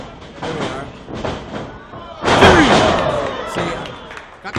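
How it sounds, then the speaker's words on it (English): A wrestler slammed to the mat with a powerbomb in a wrestling match, a heavy thud followed by a crowd roar, with a commentator talking over the ring noise. "Got the power bomb."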